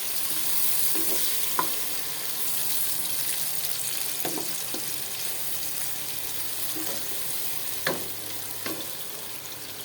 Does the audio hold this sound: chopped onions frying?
yes